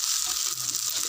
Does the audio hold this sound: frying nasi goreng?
yes